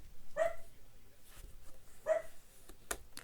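A dog gives two separate barks a couple of seconds apart, faint and somewhat distant indoors, with quiet background noise between them and no talk.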